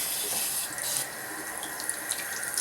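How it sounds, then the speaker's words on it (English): Warm water running steadily from a sink tap, a continuous close hiss and splash, heard alone while rinsing a beauty blender sponge. "So you're going to want to start off with warm water."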